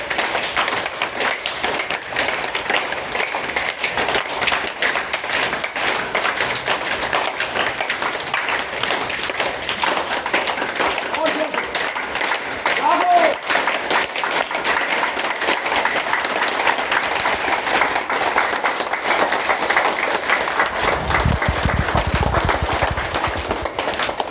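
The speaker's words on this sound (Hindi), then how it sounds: "तालियां" A group of participants claps together during a yoga session on International Yoga Day, a steady, even patter of many hands that runs at a fairly constant level throughout.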